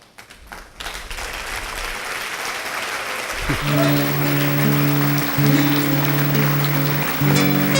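A church congregation breaks into steady, full applause, and about halfway through sustained keyboard or organ chords come in and ring beneath the clapping.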